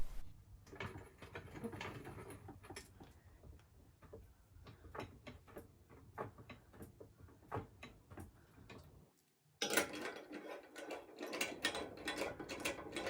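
A ratchet tightens bolts on a winch mount on a Patrol 4WD. Quick quiet clicks repeat in short runs, with a louder clunk and clattering near the end.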